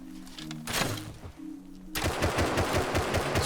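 Gunfire in the video game Rust, a short burst early, then a loud, rapid automatic volley of closely spaced shots for the last second and a half.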